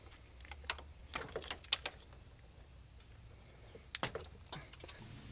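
Wire strippers work on a car battery cable after the terminal has been cut off: scattered sharp metallic clicks and snips in quick clusters over a quiet background, with a brief pause midway.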